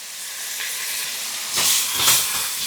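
Pan-frying with salt, black pepper and ground cinnamon stirred in, a steady close sizzle and hiss that swells briefly louder a couple of times as the food is stirred.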